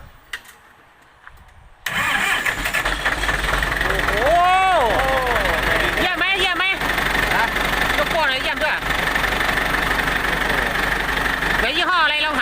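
An engine cranks and catches, then settles into a steady rumbling idle nearby, while people talk over it.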